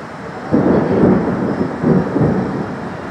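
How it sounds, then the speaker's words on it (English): Heavy thunder from a severe Ohio thunderstorm near the Ohio Turnpike, two deep rolling rumbles swelling and fading over a steady low roar, loud and sustained with no one talking. "Starting to get wicked with the lightning and thunder."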